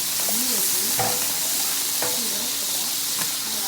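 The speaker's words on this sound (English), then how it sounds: "you can see all the juices cooking with the butter and onion and seasoning" Steak sizzles loudly with butter and onion on a Blackstone griddle in a steady hiss, punctuated by a few sharp spatula scrapes and clinks.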